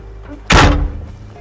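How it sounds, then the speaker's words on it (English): A Humvee door swings shut and latches with a single loud, close thunk that quickly fades, with no talking. "Make sure the door is completely closed and secured before operating the vehicle."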